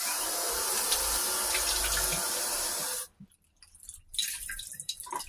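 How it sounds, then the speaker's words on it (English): Cold water pours into a thick drink mixture, a steady close trickling stream for about three seconds, then stops, leaving faint small clinks and handling noises. "I'm going to add a little bit of cold water."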